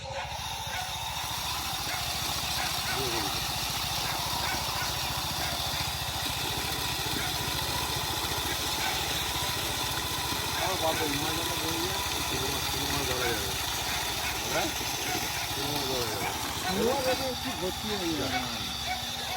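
Engine-driven pump draining water from a village fishing pond, a loud continuous droning chug that runs unbroken throughout, with faint voices over it.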